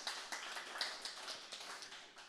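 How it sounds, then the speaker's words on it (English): Audience applause for the sponsors at a Clojure community event in Chattanooga, a fairly faint, steady patter of many hands clapping with small swells throughout, no voices over it. "Round of applause for the sponsors."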